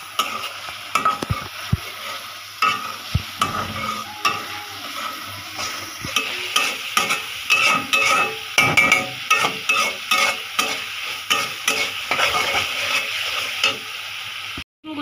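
Masala being stir-fried in a pan for Bengali egg bhuna, with a spatula scraping in a steady rhythm of repeated strokes over a continuous close sizzle and no voices.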